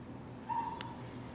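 A dog, Beau, lets out one brief, high whimper and a short yip during outdoor recall training, faint and close over a steady background hum.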